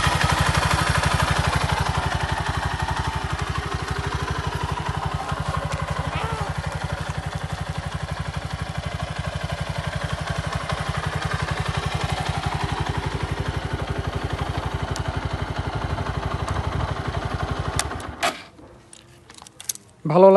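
A 2021 TVS Apache RTR 160 4V motorcycle engine idles steadily with a smooth, even low rumble and light mechanical clatter for about eighteen seconds, then cuts out near the end.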